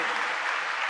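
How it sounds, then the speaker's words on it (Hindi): Applause from an audience at a spiritual gathering, a steady dense patter of many hands clapping together, close and fairly loud, with no voices over it. "जोर से ताली बजाएं।"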